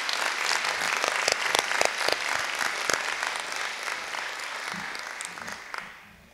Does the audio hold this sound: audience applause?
yes